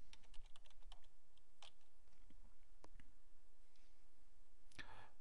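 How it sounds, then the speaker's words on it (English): Keys on a computer keyboard clatter in a quick burst of close clicks, then a few scattered taps, faint and with no talk over them. "I'm going to just type in the word bricks."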